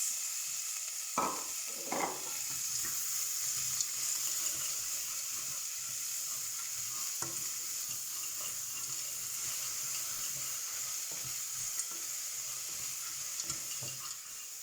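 Cluster bean vegetables stirred in a pan with chili, ginger and garlic paste, giving a steady low frying hiss with a few scraping spoon strokes near the start, close and fairly quiet throughout.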